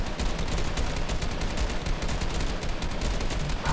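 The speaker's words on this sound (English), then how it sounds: "What are you shooting at?" Sustained rapid gunfire in a video game, dense overlapping bursts of shots that form a continuous loud barrage with no voices.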